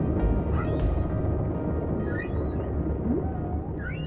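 Pink dolphin calls from the underwater video game Dave the Diver: brief high chirps and whistles scattered over a steady, loud rumbling underwater ambience, with no talk.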